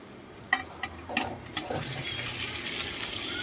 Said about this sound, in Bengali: এবার ডিম আলুটা দিয়ে দেওয়া হবে এই মশলার মধ্যেই।